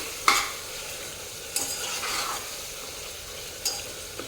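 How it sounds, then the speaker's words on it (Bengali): Mutton gravy sizzles in a pan while a spoon stirs it, with a few sharp scraping knocks over a steady, moderately loud frying hiss. "এই যে আবার নাড়িয়ে দিচ্ছি গ্রেভিটা আবারও কমতে শুরু করে দিয়েছে"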